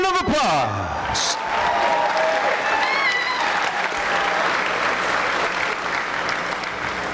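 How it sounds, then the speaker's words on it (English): Applause fills the hall for two fighters at the close of an MMA bout at 209 Beatdown XX, a loud, steady wash of clapping with crowd noise, an announcer's voice carrying over it. "let's give these two fighters one more round of applause"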